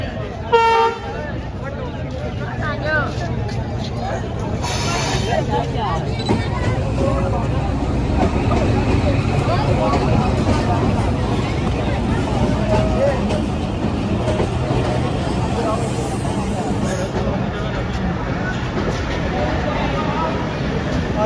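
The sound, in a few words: train arriving at platform, horn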